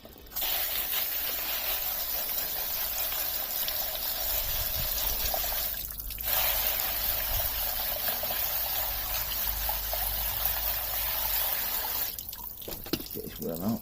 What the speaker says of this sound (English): I shall just get the hose pipe on it.